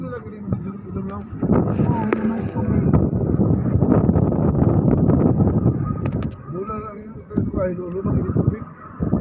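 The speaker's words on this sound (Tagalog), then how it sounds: "Lakas ng hangin." Strong wind buffets the microphone with a steady roaring rumble throughout in Toril, Davao City, with a voice speaking faintly underneath.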